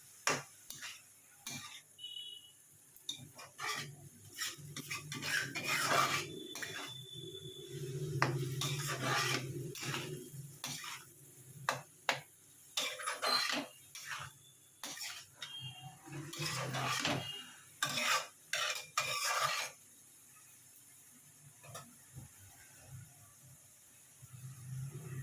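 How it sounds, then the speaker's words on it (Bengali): Metal spatula scraping and clinking in a pan while fenugreek greens are stirred and fried, with irregular close taps and scrapes over a faint low sizzle. "এবার এটাকে একটু ভালো করে ভাজা ভাজা করে নেবে।"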